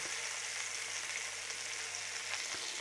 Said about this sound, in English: we need to actually sear that end cap fat as well. That's going to put extra fat in this pan.